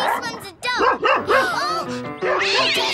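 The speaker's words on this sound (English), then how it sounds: "Naughty dog." A cartoon dog barks in a rapid run of high, bouncy yips close up, mixed with children's animated voices speaking over and between the barks.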